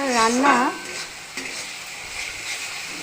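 Ginger paste added to chicken in a hot pan fries with a continuous moderate sizzle and stirring scrapes, a brief voice at the start and a sharp utensil knock partway through.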